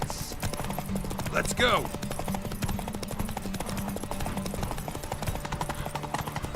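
Roach the horse galloping in The Witcher 3, a steady rapid patter of hooves running under a voice, with a short whinny-like vocal sweep near the start.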